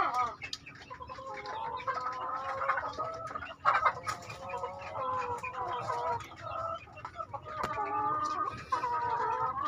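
Breeding hens in a poultry colony, a group of five hens with five others, cluck and call continuously, several birds overlapping at close range, with occasional louder squawks.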